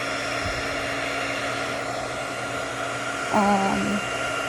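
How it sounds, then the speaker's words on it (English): A heat gun blows a steady, loud stream of hot air to melt the top of a homemade candle, a constant whooshing hum with a brief tonal whine near the end and no talking. "the heat gun was already on and basically like warmed up"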